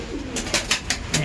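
Pigeons in a breeding loft, a mix of fancy breeds including Giribaz and Andhra cross birds, coo softly at close range, with a few brighter flutter-like bursts recurring through the short stretch.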